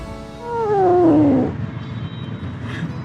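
A frightened small kitten gives a drawn-out defensive yowl that rises and falls over about a second, loud and close, followed by quieter hissing breath and rustling.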